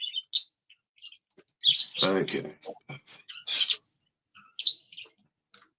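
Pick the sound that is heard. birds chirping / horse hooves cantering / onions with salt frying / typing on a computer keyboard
birds chirping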